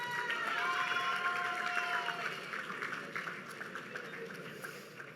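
Audience at a university athletics awards ceremony applauding the Female Athlete of the Year, steady clapping with some cheering and a few shouts, gradually fading toward the end.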